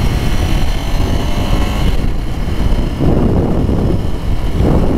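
A 2006 Ducati Paul Smart 1000 motorcycle engine under way on a ride, a steady loud droning rumble with wind noise that swells and eases slightly as the throttle changes.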